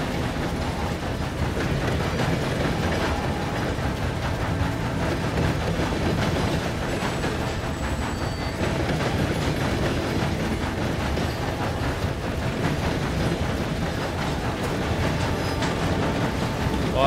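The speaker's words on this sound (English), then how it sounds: "I wasn't even trying to steal the train." A train runs in the video game Red Dead Redemption 2, giving off a steady, loud rumble of rolling wheels and rattling cars that continues unbroken for the whole stretch, with faint squeals above it.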